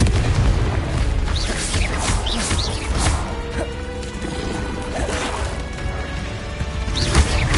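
Confringo blasting spells explode in Hogwarts Legacy, giving a dense, loud barrage of booms and crashes that runs the whole way, with bursts overlapping and no pause between them.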